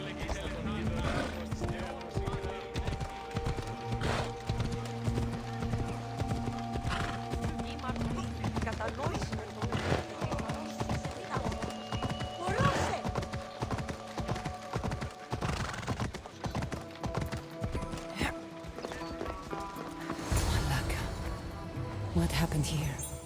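Horse hooves clip-clopping at a steady pace in Assassin's Creed Odyssey, with occasional whinnies over continuous background music and game sounds, footfalls close and steady throughout.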